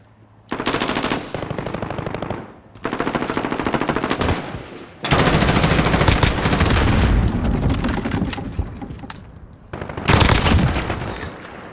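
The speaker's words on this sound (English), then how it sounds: "looks like somebody's shooting at me" Sustained automatic gunfire from Call of Duty: Modern Warfare online play, several loud rapid bursts of a few seconds each separated by short pauses, dense and close with no talk over it.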